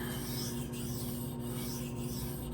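A Protech TR-3 knife with a Magnacut blade is drawn across a sharpening stone in continuous, even rasping strokes, close and steady, with no voices.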